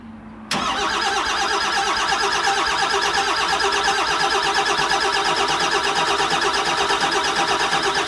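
Starter motor spinning a Cummins diesel swapped into a Ford F250, cranking steadily without firing, with a loud rhythmic whirring and squealing that kicks in abruptly after a brief hum and continues unbroken.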